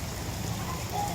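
Rain falls in a village, a short stretch of even, continuous hiss with no other sounds standing out.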